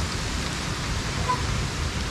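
Rain during a storm outdoors while checking snake traps, a steady broad hiss of falling rain, constant and fairly close throughout, with no clear talking.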